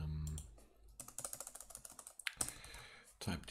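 Bursts of rapid keystrokes on a computer keyboard, close and crisp with a steady clatter through the middle, broken by a few louder clicks near the end, with a brief voice at the start.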